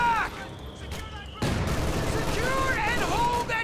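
Mortar fire in Company of Heroes 2 during a US Forces multiplayer match, with a loud thudding impact and ongoing gunfire and battle noise as game voices shout over it.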